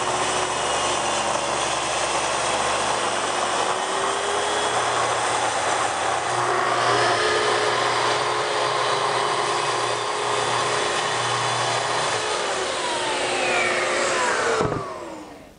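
A power saw runs steadily while making a 45-degree bevel cut along the edge of a wooden dining tabletop, a loud, sustained whine with a droning motor undertone that lasts throughout and then winds down at the very end.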